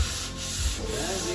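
Steady, continuous sanding of wood with an even rasping rub, close and fairly loud throughout a short stretch, with no voices.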